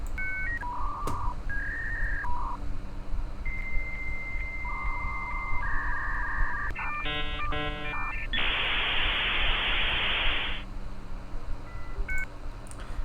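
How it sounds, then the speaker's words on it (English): A dial-up modem connects: a run of dialing tones and beeps, then screeching handshake chirps and a burst of hissing static, fairly quiet. "we played some dial-up internet sounds"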